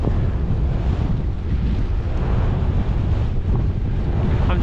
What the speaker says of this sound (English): Now we're going into a headwind, but we're going downhill